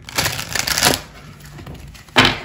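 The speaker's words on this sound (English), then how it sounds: "let me shuffle it" A deck of tarot cards shuffled close up in two quick bursts of papery riffling and rustling, separated by a brief pause.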